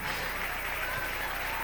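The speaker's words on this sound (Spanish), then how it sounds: "Dale un aplauso al Rey." A church congregation bursts into dense, steady applause during a sermon, a brief, even wash of clapping with no pause.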